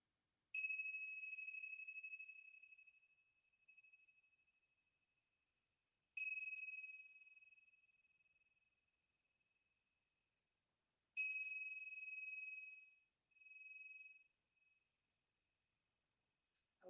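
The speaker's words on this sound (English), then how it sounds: "Allow the sound of the chimes to signal the beginning of your practice." Three meditation chimes ring out one at a time, several seconds apart, each a clear bright tone that fades slowly into near silence, with no talking.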